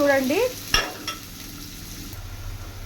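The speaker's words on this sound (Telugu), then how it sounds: "ఆనియన్స్ బాగా ఫ్రై అవ్వాలి ఫ్రెండ్స్" Onions fry in a pan for a village-style okra and dried fish curry. A spoon scrapes through them, with one sharp clink early on, over a steady low sizzle.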